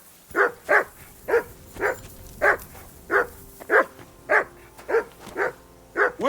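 A dog in Kingdom Come: Deliverance II barks about a dozen times at an even, steady pace, each bark short and clear at moderate distance against quiet surroundings.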